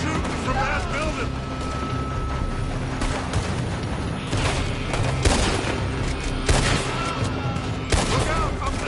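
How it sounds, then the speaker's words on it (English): Rapid volleys of gunfire ring out in a Red Dead Redemption 2 shootout, repeated sharp bursts over a dense, continuous bed of battle noise, with voices talking through the action. "They're shooting from that building."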